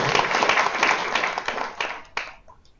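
An audience at an international development conference in Geneva claps for an award, a short dense burst of applause that thins out and fades within a few seconds.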